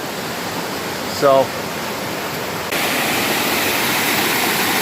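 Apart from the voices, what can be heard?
river water flowing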